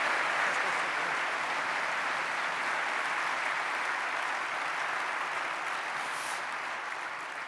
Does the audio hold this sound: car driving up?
no